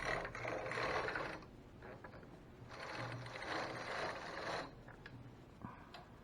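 A knitting machine carriage slides across the bed in two quiet, mechanical passes of ratcheting, clicking clatter with brief pauses between them.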